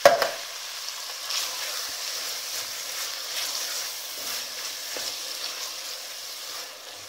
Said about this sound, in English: add in your tomatoes, your canned tomatoes